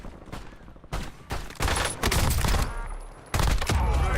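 Loud, sustained video-game gunfire: overlapping bursts and volleys pound continuously, close and dense, with no voices heard.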